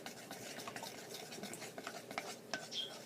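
A popsicle stick stirs thick soap batter in a container, giving close, soft scraping and clicking strokes in an irregular rhythm, with a few brighter taps against the sides.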